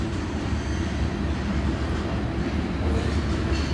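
A freight train's distributed power locomotive rolls past, a steady, loud rumble of wheels and rail noise with faint clickety-clack running continuously throughout.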